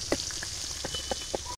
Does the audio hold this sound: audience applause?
no